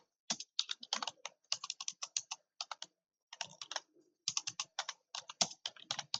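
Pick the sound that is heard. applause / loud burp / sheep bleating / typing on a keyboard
typing on a keyboard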